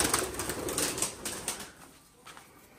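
A pigeon's wings flap in a quick flurry of soft, airy beats at close range, fading toward the end with no voices.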